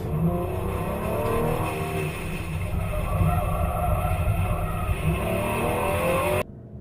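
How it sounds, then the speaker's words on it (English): A car accelerating out of a curve during evasive driving training, a loud sustained engine roar with tyre noise, fairly close, cutting off abruptly near the end. "Do all your braking before, and then once you're setting up, coming out, you accelerate out of the curve"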